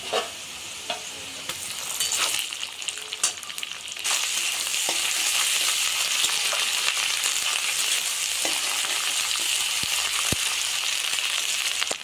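Ginger garlic paste fries in hot oil with a steady, close sizzle that grows louder and denser halfway through, along with scraping stirs of a spoon.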